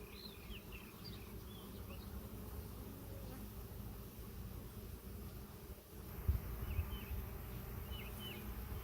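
A dense, steady hum of 40,000 to 50,000 honey bees buzzing close by in a hive, continuous throughout, with a few brief higher chirps over it.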